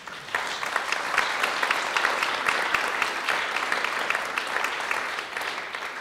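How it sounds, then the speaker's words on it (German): Audience applause at a digital society conference panel discussion in Germany, a steady dense wash of many hands clapping at moderate level for the full six seconds. "Einen großen Applaus bitte"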